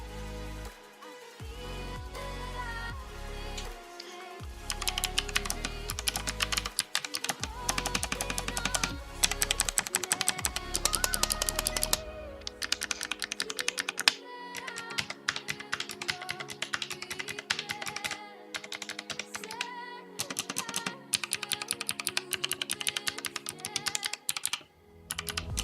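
Typing on a Fantech MK882 Pantheon Optic mechanical keyboard with optical switches: rapid, close clacking keystrokes in dense bursts, with a few short pauses between runs.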